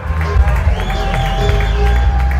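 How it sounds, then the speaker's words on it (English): A live audience cheers and applauds at an awards-style stage event, a steady dense wash of clapping and crowd noise with scattered voices throughout, loud and continuous. "the audience continues to cheer"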